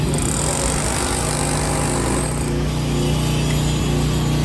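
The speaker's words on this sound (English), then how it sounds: "Guys are chipping out the concrete behind me." Concrete being chipped out by workers on the roof of a Miami high-rise during repairs, a steady loud mechanical clatter and grinding that fills the whole stretch alongside a constant low machine hum.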